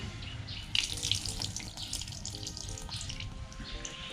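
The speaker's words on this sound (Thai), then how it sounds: "เดี๋ยวจะเทน้ำออกก่อนค่ะ" Water pours and splashes steadily out of a container of soaking water spinach seeds nearby, a continuous running flow with small bubbling accents.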